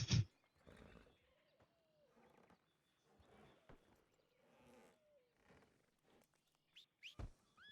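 A bear growls and roars in a Red Dead roleplay video game, a series of rough, rumbling snarls in bursts over several seconds, moderately loud with short gaps between calls.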